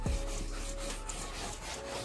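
Close, steady scrubbing as baking soda is rubbed by hand into the fabric of an IKEA pull-out couch, a continuous soft rasping texture with faint rhythmic strokes and no talk.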